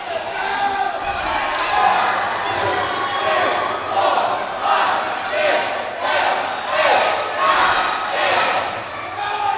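A wrestling crowd in Palatka chants a count toward ten in unison, with loud rhythmic bursts of many voices rising and falling at a steady pulse and filling the hall.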